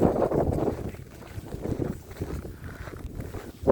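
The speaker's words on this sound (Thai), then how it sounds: "วันนี้มีลมนะคะวันนี้มีลมนิดนิดลมไม่มาก" Steady wind on a cool 8-degree morning outdoors rumbles and buffets the microphone as a continuous low roar, with no talking.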